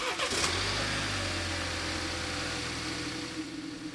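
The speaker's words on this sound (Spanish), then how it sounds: "Mi papá había encendido el carro" A family car's engine cranks and catches, then settles into a steady, low idle that runs on at moderate loudness with no talking.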